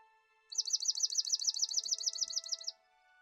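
A swamp sparrow sings one clear trill of rapid, evenly repeated sweet notes lasting about two seconds, close and alone against a quiet background with a faint steady hum.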